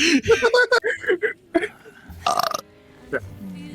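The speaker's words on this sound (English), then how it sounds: "Can you stop burping?" Loud burps erupt in a rough, gurgling series, mixed with voices and chuckling during a Metal Gear Solid 3 livestream.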